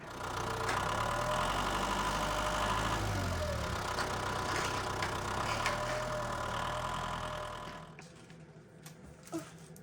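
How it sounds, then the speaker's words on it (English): A farm tractor's engine idles with a steady, rattling chug, moderately loud and close, before it dies away, leaving quieter outdoor background with a few small knocks. "Start this tractor."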